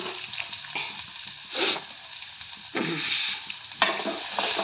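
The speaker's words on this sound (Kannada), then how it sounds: "ಇದು ಗೋಲ್ಡ್ ಕಲರ್ ಬರೋವರೆಗೂ ಫ್ರೈ ಮಾಡ್ಕೋಬೇಕು" Onions frying in a pan of hot oil after mustard and cumin seeds, a steady close sizzle broken by several louder bursts of spatula stirring and scraping, with no talk.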